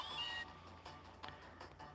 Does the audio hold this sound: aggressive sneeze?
no